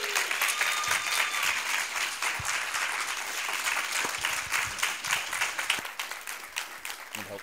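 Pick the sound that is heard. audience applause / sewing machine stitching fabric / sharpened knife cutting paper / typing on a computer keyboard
audience applause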